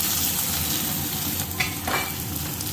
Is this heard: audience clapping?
no